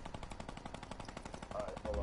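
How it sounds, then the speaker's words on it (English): Rapid machine-gun bursts from a video game rattle steadily at moderate distance, a fast repeating patter running throughout, with a voice briefly over it near the end. "I hear gunshots."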